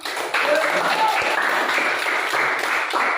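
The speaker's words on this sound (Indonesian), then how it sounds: "berikan aplaus untuk semua" A group applauds during a lesson, with a dense, even burst of clapping that fills the moment and holds steady throughout.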